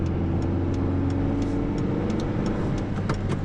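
A car engine hums at a steady drone while driving along country roads, with constant low rumble and road noise throughout and no speech.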